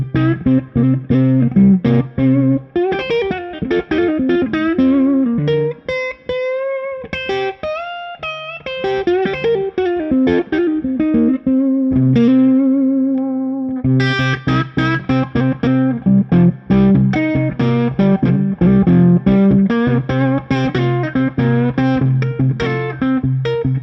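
Electric guitar played through a Two-Rock Bloomfield Drive amp at full gain with classic reverb, a loud, sustained distorted tone with chords and single notes ringing out continuously, no talking over it.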